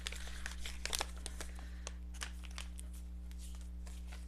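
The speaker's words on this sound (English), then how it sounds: "I'm going to have to open up my next pack of stickers that I'm hoarding" A pack of stickers being opened, with soft crinkling and tearing of plastic wrapping in quick, irregular rustles, close but quiet over a steady low electrical hum, no talking.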